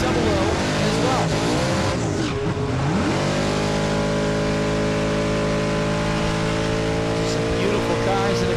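Funny cars at a drag strip roar past the line, engines screaming and then falling in pitch as they pass, loud and continuous with no pause.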